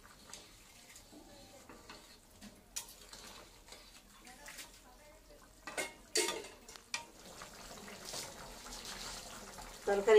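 Cumin seeds tipped into hot oil while cooking a rohu fish curry with the season's first cauliflower, with a faint, steady sizzle, scattered stirring clatter and sharper bursts of frying later on.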